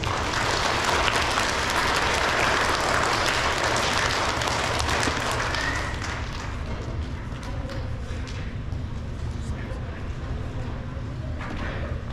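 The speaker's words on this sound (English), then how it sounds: "So let's give them a round of applause." An audience at an elementary school awards ceremony claps in loud, sustained applause that fades gradually toward the end, heard alone in an indoor hall.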